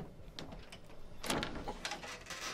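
A door creaks open in a cluttered basement of a house under renovation, with scraping, squeaky bursts and a louder grinding creak midway.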